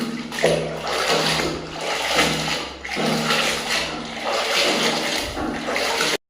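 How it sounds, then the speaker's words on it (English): Water sloshes and splashes close by as a performance air filter from a Guerrilla 450 motorcycle is dipped in and washed, in continuous rushing surges with no talk. "we are gonna dip in water and clean it properly"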